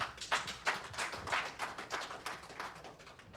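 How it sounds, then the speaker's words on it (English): Light, scattered clapping from a small conference audience, steady and soft, without cheering or voices. "Round of applause, please."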